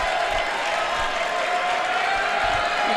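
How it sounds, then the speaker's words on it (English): High school basketball crowd in a gym late in the first half, a loud continuous roar of cheering and clapping that fills the space evenly throughout. "The crowd's getting loud here."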